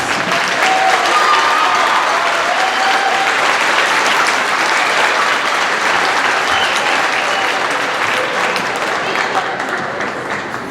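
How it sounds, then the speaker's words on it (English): Sustained applause from a large audience at a school concert fills the room, a steady dense wash of clapping that holds evenly and tapers slightly at the end. "let's give Gerard a round of applause, please."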